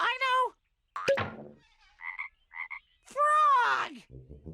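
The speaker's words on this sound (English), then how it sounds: "Frog!" A cartoon frog croaks a few times in a children's animal learning show, with short bouncy croaks between bursts of an excited child-like voice.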